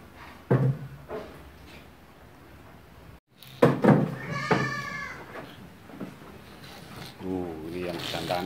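An Etawa goat, a male, in a livestock pen gives a couple of wavering bleats up close, with people talking nearby and knocks of wood in between.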